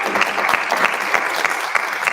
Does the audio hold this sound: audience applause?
yes